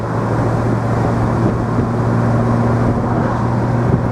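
A 1966 Mercedes 230SL Pagoda automatic with stainless steel exhaust accelerating, its engine a steady, loud, continuous drone with a sustained low hum throughout.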